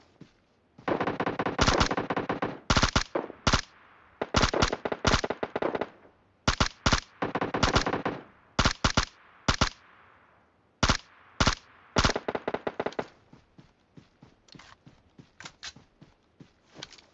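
Automatic gunfire in PUBG Mobile, sharp bursts and single cracks rattling off repeatedly at close range, with short pauses between volleys and quieter, more distant shots trailing off toward the end.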